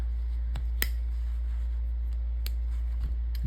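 Scissors on a Swiss Army Knife Swisschamp being folded closed; a few sharp, close metallic clicks and snaps over a steady low hum.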